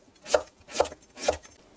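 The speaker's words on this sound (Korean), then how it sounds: "저는 무가 2개밖에 안 되니까 그냥 손으로 썰어줄 거예요." A knife slices radish by hand on a cutting board for kimchi: three quiet, evenly spaced chopping strokes close by.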